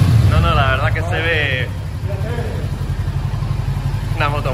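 A Brixton Crossfire 500X motorcycle with a stock stainless steel exhaust idles with a steady, throbbing low rumble close by, while people talk over it.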